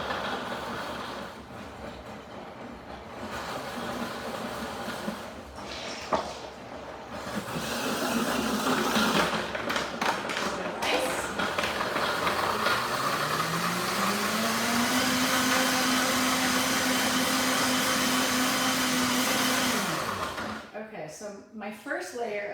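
A blender churns a frozen protein smoothie, a loud continuous roar whose motor pitch climbs and holds steady before cutting off near the end, with no voices over it.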